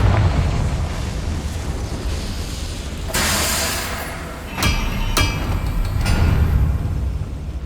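A Confringo fire spell in Hogwarts Legacy goes off as a sudden blast with a bright crackling burst, followed by a few more sharp impacts over a steady rumbling background.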